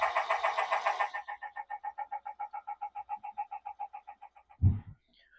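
A Chatter Duck motion decoy swims in a bathtub, its motor giving a steady chattering buzz of evenly spaced pulses for about four seconds before stopping, followed by a single low bump. No one speaks.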